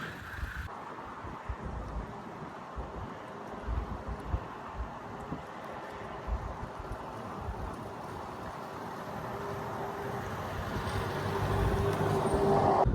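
A Renault Kadjar with a 1.5 K9K engine and 134,000 km on the clock, in ideal condition, drives on a test run; a steady low cabin rumble of engine and road noise swells slightly toward the end, with no talking.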